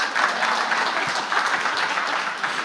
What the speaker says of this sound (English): can give her a real clap.